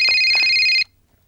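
A telephone rings in a comedy film scene: one loud, bright electronic ring that cuts off abruptly after under a second, leaving near silence.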